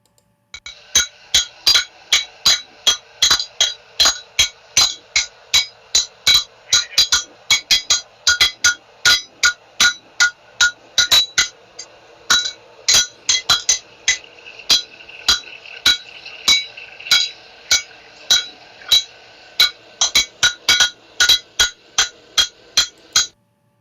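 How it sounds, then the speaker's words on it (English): Hammer forging heated steel into a knife blade: a long run of sharp, ringing metallic strikes in a steady rhythm, loud and close, with brief pauses between bursts and no voices. "the workpiece is deformed plastically into shape using a hammer"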